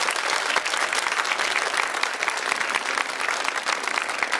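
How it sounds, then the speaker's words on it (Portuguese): A church audience at a religious gathering applauds in a dense, continuous patter of many hands clapping, fairly far off and even in level throughout, with no speech over it. "Pode aplaudir porque merece."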